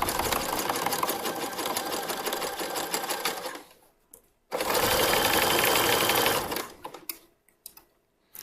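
Sewing machine top stitching stretchy swimsuit fabric on swim bottoms, running in two steady bursts of close, rapid mechanical stitching with a short pause between and brief clicks and handling noise at the end.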